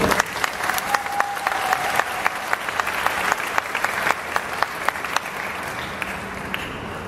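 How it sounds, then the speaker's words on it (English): A round of applause from a graduation audience, many hands clapping in a steady crowded patter with some sharper individual claps standing out, gradually thinning toward the end. "I think that deserves a round of applause."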